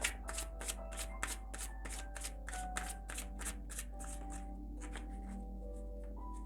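Tarot cards are riffle-shuffled close up in a fast, regular run of crisp flutters. The shuffling slows and thins toward the end, with no speech over it.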